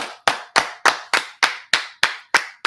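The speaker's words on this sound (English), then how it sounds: "Clap it up." Sharp, evenly spaced group claps from a class, about nine crisp unison hits in a steady rhythm, close and loud with silence between them.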